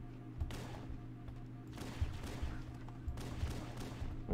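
Gunfire in the video game Halo CE, a run of muffled rapid shots and bursts over a steady low game hum, fairly faint and without talk.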